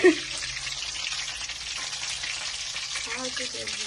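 Evening snacks fry in hot oil with a steady, close sizzle. A brief thump opens the sound, and faint voices surface near the end.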